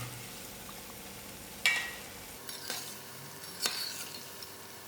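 Goolgoolas, Indian donuts, frying in oil and being turned, a faint bubbling sizzle broken by three sharp utensil clinks and scrapes against the pan.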